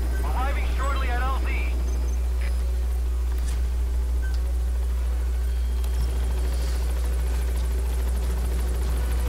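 A helicopter in Metal Gear Solid V arrives at a landing zone with a constant loud rotor and engine rumble, while a short radio-style voice speaks early on.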